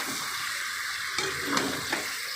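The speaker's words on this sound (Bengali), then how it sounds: "আলু দিয়ে এটা ভাজা করব আর ওটা রান্না হবে" Potatoes with beans and carrots frying in a home kitchen pan, giving a steady close sizzle with a few brief stirring scrapes and clinks, no talking.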